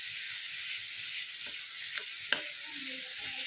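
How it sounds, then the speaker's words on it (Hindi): Cooked papaya being mashed with a spatula in a pan for halwa: a steady soft hiss broken by a few light scraping taps, with no speech. "अब इसको मैश कर लीजिए पूरा।"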